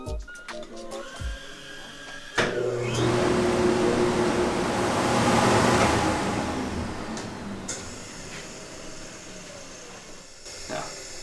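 A floor dust sweep on a 5-inch dust collection line switches on with a sudden roar of rushing air that holds steady for several seconds in a small shop, then drops away as the collector spins down.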